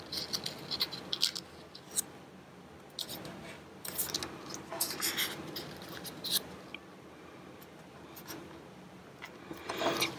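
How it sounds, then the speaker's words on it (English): Sheets of paper being folded and creased by hand while making an inchworm craft, giving soft scattered rustles and sharp crinkling swipes across the whole stretch, fairly close and quiet, with no talking. "you take and you fold that in the middle, crease it"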